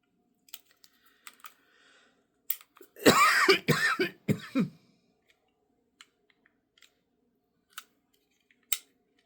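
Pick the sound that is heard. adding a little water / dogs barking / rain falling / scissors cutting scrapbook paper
scissors cutting scrapbook paper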